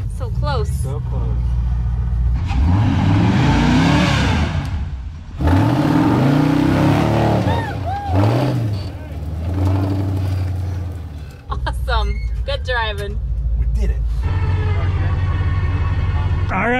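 An off-road vehicle climbs a steep hill, its engine revving hard in rising and falling surges that come near and loud, broken by brief pauses, while people talk over it.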